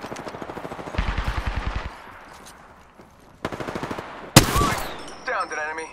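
Rapid automatic gunfire bursts from the Apex Legends video game, several loud rattling volleys of close shots separated by short pauses, with a sharp blast near the end and game effects trailing off.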